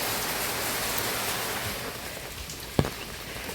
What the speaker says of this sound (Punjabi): ਗਾਈਸ 6:30 ਦਾ ਮੀਂਹ ਪੈ ਰਿਹਾ ਤੇ ਹੁਣ 12:30 ਵੱਜ ਚੁੱਕੇ ਨੇ